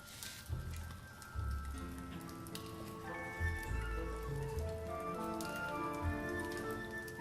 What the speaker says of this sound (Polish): pada.